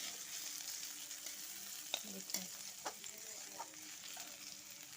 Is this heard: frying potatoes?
yes